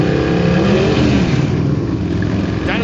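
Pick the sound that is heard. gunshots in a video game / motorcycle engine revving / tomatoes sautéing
motorcycle engine revving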